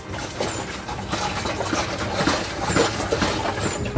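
Water swilled around inside a motorhome toilet cassette, a steady sloshing and gurgling wash at close range with occasional slaps, continuous for several seconds with no talk.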